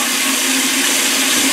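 Chili, ginger and garlic fry in hot vegetable oil over high heat for banh mi, giving a loud, continuous sizzle with a low hum underneath and no pauses.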